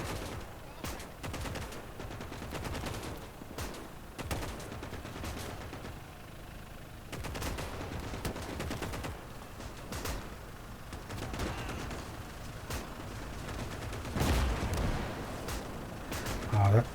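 Gunfire from a T-34 tank amid a battle in the WWII strategy game Gates of Hell, Finland campaign: repeated booming shots and rattling fire scattered throughout, moderately loud, with a voice talking over the combat.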